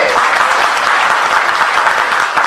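Dense, sustained applause from an audience at a corporate press event held by Good TopUp in Thailand, loud and steady throughout with no talk over it.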